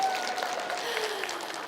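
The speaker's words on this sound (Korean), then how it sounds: "괜찮으시면 박수 주시고 안 괜찮으면 더 박수 주시고" Brief, dense applause from a lecture audience in a room full of people, steady and moderately loud throughout.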